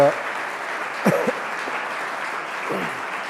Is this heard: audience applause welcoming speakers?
yes